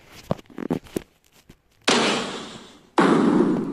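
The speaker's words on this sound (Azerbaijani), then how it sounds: "Gördüğünüz kimi bir dənə bomba partlatdıq." Bomb blasts in a two-player video game: two sudden loud bursts, each cutting in sharply and then fading slowly, follow a scatter of short thuds and pops. No one talks.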